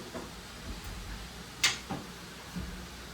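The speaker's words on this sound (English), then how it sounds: "So we just used a flathead screwdriver and our 1/4 turn latches" A flathead screwdriver works the quarter-turn latches on an AntrumX panel, giving a few soft close clicks and one sharper clack in an otherwise quiet room.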